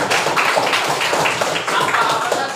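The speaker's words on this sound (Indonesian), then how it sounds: "Beri tepuk tangan untuk Melinda." Brief burst of clapping for a student in a classroom, a quick run of dense, moderately loud hand claps lasting a couple of seconds.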